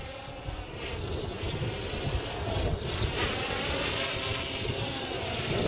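WhirlWind 600 V-tail multirotor drone on a KK2.1 flight controller cruising upwind below full throttle, a continuous whirring buzz mixed with heavy wind rush on the microphone, steady and fairly loud throughout, with no talking.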